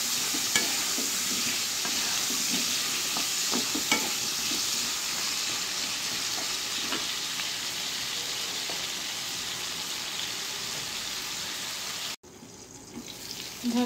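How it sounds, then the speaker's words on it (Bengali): Potatoes frying in a pan until reddish-brown, a steady close sizzle with stirring clatter running throughout, cutting off abruptly near the end to a quieter hiss. "আলুটাকে একটু লাল লাল করে ভেজে নিতে হবে"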